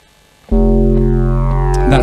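A clean, undistorted synthesizer tone from a masterclass setup starts abruptly after a short silence and holds as a steady, loud sustained note with rich, stable harmonics, sounding plain and dull.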